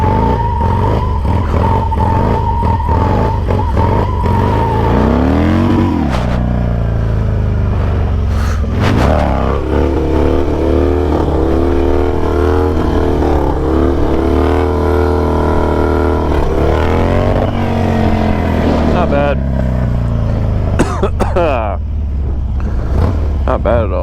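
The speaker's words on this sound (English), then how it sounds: "My bike is completely stock with a cam chest" A stock motorcycle fitted with a cam and a sticky 401 rear tire rides out in the open, its engine rumbling and revving through repeated rising gear pulls and shifts, loud and close with wind noise.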